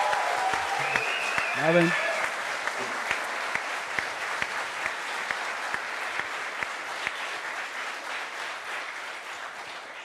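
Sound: studio audience applause

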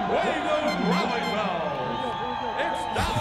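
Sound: stadium crowd cheering at a Dallas Desire football game

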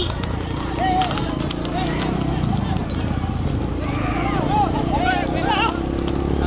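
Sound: horse cart race hooves

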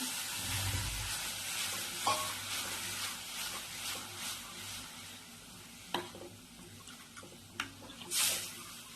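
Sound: stirring curd in a pan over the gas flame

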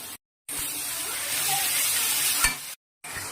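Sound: sautéing tomato paste in a pan

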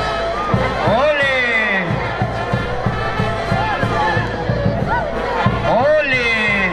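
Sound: crowd cheering and applauding at a bullfight

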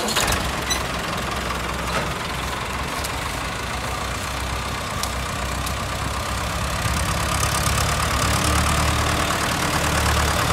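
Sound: tractor engine starting and idling

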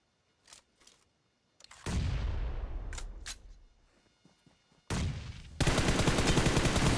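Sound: gunfire in the video game PUBG Mobile

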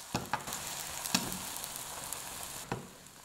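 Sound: beaten eggs frying in vegetable oil in a pan

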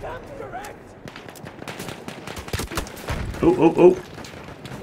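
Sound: sniper rifle gunshots in the video game Battlefield 1

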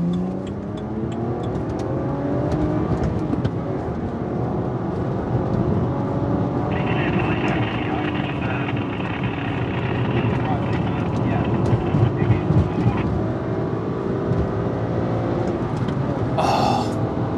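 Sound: BMW Z4 engine driving and accelerating

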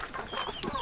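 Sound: Indian game chickens clucking

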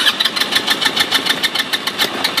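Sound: amphibious vehicle engine revving

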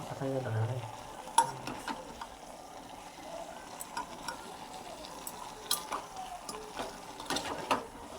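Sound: mutton curry with green chillies being stirred in a pan

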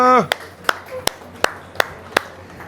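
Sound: people clapping for Sodhi

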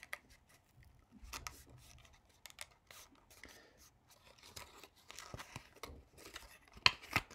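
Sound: folding paper for a spectrometer

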